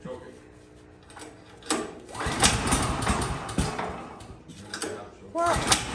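A Woodland HM126 sawmill engine sputters and chokes, sounding rough and uneven up close, rising and falling in bursts amid people talking nearby.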